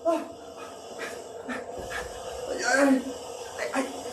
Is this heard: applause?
no